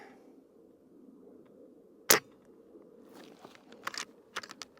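An Umarex Komplete nitro-powered airgun fires a single 25 grain slug with one sharp, close crack. Faint clicks and handling noises follow in a quiet room.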